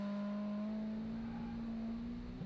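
A Honda S2000 with an AP1 transmission holds a high, steady engine tone near its 8000 rpm redline, a continuous strained whine heard from inside the car at moderate level.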